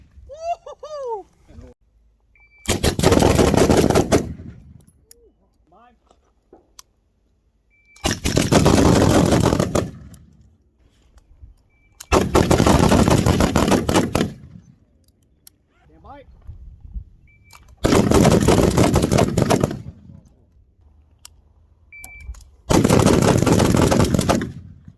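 Rifle fire on a tactical baseline course comes in five loud, dense bursts of rapid shots spaced a few seconds apart, with quiet gaps between where faint voices and bird calls can be heard.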